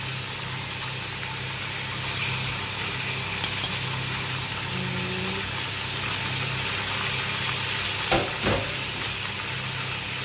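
Mutton browning in a pot with whole garam masala (green and black cardamom, cinnamon, black pepper, cloves, cumin), garlic and ginger, giving a steady low sizzle throughout, with a brief stirring clatter near the end and no talking.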